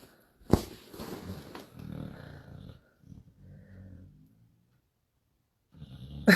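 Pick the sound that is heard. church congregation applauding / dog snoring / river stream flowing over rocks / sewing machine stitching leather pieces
dog snoring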